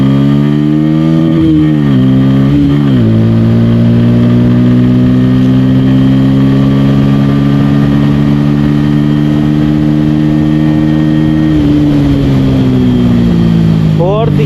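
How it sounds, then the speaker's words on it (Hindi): Bajaj Pulsar N160 motorcycle pulling hard in fourth gear, its engine drone loud and close as the pitch rises steadily, dips briefly around a shift-like wobble, then climbs on; wind rush fills the background. "अब देखता हूँ इसका फोर्थ गियर पे कितनी स्पीड निकल के आएगी।"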